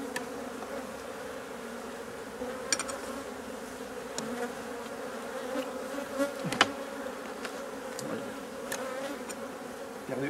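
Honeybees buzz steadily around an opened hive during a honey harvest as a super is lifted onto a bee escape, a constant hum with occasional close clicks and knocks from handling the frames.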